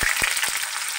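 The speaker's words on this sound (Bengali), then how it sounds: "তো পেঁয়াজগুলো ভাজি হইতে থাক।" Chopped onions frying in hot oil, a steady close hiss of sizzling with a few brief low thumps early on and no voices.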